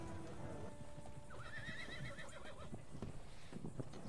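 A horse in Red Dead Redemption 2 gives a loud, close whinny over a steady clip-clop of hooves, with the riding continuing after the call.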